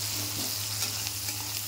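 Onions and a slit green chili frying in a pan, a close, steady hissing sizzle with faint stirring scrapes.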